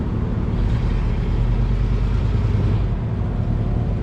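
A square-body truck climbs a muddy, snowy hill, its engine droning steadily with a constant low rumble and slight shifts in load, loud and close for the whole stretch.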